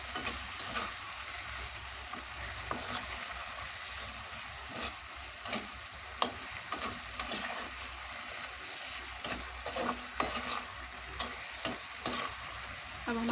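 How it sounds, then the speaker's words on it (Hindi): Four fried potatoes roasting with spices in a pan, a soft steady sizzle under repeated spoon stirring and scraping with occasional taps against the pan, no talk. "अब इसमें हम जो हमने आलू फ्राई करके रखे हैं, ये चार आलू हैं, इसे हम डाल देंगे और थोड़ा सा मसाले के साथ भूनेंगे।"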